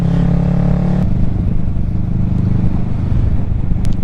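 Kawasaki Ninja 650 motorcycle with an aftermarket exhaust cruising through a neighborhood, a close, steady low rumble with a brief higher engine tone at the start.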